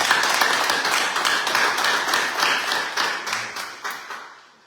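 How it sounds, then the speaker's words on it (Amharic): A church congregation claps together during a service, a dense burst of many hands that gradually thins and fades away toward the end. "አጨብጭቡላችሁ ደግሞ"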